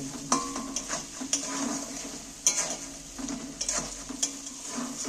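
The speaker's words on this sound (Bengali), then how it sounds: "কাঁচা লঙ্কা 8টা সবগুলো দিয়ে আমি আবারও ভাজবো" Eight green chillies frying in hot oil in a wok over a lowered gas flame: steady sizzling and crackling with scattered scrapes and clinks of a spatula stirring against the metal pan.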